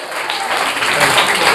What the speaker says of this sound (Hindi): क्लैपिंग होनी चाहिए हमारे हेड मास्टर साहब के लिए